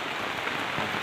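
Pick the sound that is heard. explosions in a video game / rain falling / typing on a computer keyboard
rain falling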